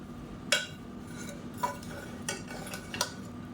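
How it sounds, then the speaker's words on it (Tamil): A spoon stirs cooked mutton or chicken biryani rice up from the bottom of a pot, making a few distinct metallic scrapes and clinks spaced about a second apart, close and fairly quiet, without talking. "கீழேருந்து மேலே வரைக்கும் கிளறி விட்டுக்கலாம்"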